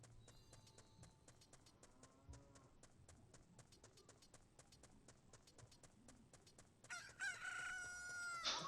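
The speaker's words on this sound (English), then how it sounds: "So both nightfall and daybreak sounds are chicken." A rooster crows for nightfall in the video game Ocarina of Time: a loud, bright, strained call bursts in near the end after long near-silence and runs to the close.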